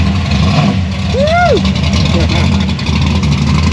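A hot-rod car engine revs at a beach horsepower festival, a steady loud rumble throughout with a whooping shout and nearby voices over it.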